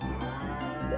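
Video game cow mooing, a single sustained low moo lasting about a second, close and clear with no other sounds.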